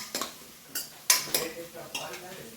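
Spoon scraping and clinking against a pan while brinjal bharta with green chillies is stirred, a few separate bursts of metallic scraping over about two seconds, close and moderately loud.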